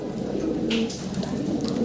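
Fancy pigeons coo softly and repeatedly at a pigeon sale, a low throaty cooing near the listener over a steady background hum, with no talk.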